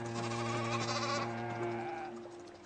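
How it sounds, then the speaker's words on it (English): A newborn East Frisian lamb bleats in one long, wavering, close cry in the farming survival game Project Zomboid. "we have a new East Frisian lamb here"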